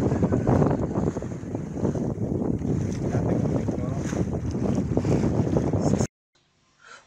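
A sailboat motor-sailing under genoa and mainsail in very light wind at about five knots, with a steady broadband rush of engine, water and wind that runs loud and continuous for six seconds, then cuts off to near silence.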